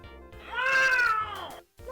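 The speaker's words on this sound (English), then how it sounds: "This is a cat." A cat gives a single clear, drawn-out meow in the Windows 3.1 game Little Red Riding Hood, loud and close, rising then falling over about a second, with no talking over it.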